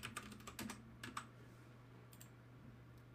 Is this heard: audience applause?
no